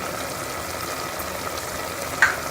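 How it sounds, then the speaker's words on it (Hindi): Keema mixed with yogurt and a little garam masala fries on high heat in a karahi, a steady, close sizzle with one brief clink of the spoon near the end. "मैं इसको आंच को तेज़ करके इसको दही को कीमे के अंदर अच्छी तरह भून लूँगी"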